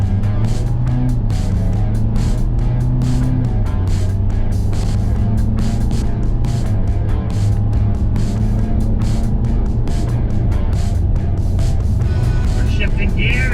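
A GMC Savana van with a 2.8L Duramax engine and a 4x4 conversion accelerates from 0 to 60 mph. A loud, steady cabin drone of engine and road noise shifts pitch as the gears change.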